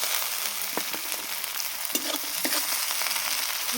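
Onion, cauliflower and potato fry in a pan with a loud, continuous sizzle, broken by sharp scrapes and clicks of stirring throughout, with no talking.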